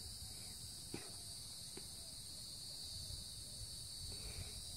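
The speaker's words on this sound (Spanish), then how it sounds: "Se escuchan grillos, se escuchan las aves cantar" Crickets chirp steadily on a hilltop in natural countryside, a faint constant high trill with a few soft knocks and rustles nearby.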